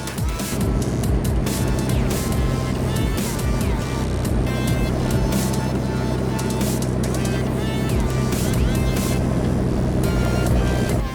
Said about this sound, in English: the John Deere 1710D logging machine, powered by a high horsepower engine, is efficiently harvesting timber in the dense forest